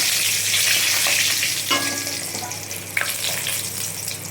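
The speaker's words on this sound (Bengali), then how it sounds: "তেল গরম হয়ে গেছে, এই শুকনো লঙ্কা তেজপাতা দিয়ে দিলাম" Dried red chillies and bay leaves sizzle in hot oil, a steady close hiss of frying with a brief clink partway through.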